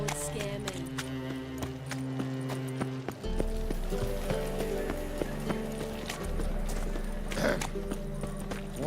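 Horse hooves clip-clop at a steady walking rhythm in the Witcher 3 game, close and clear over ambient music and town background, with brief bits of game voices.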